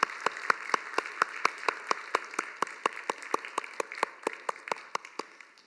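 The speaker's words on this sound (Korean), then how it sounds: "섬겨주신 우리 1그룹 리더들 나가실 때 힘찬 박수로 같이 한번 격려하겠습니다." A church congregation at a youth worship service claps together in a steady, even rhythm of sharp, crisp claps that continue for several seconds before easing slightly.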